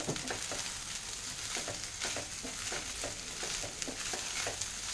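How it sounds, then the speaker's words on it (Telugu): Cooked rice being stirred into a hot pan for a Telugu lunch-box rice dish, with a steady sizzle and irregular scraping taps from the spoon continuing throughout, no talking. "ఆ రైస్ ఇక్కడ వేసేస్తున్నాను. మిక్స్ చేద్దాం."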